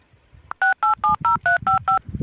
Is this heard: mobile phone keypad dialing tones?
yes